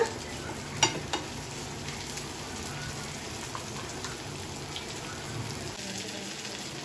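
Masala-coated fish fries in oil in a pan on a home stove, a steady crackling sizzle at moderate level with a couple of sharp pan knocks early on.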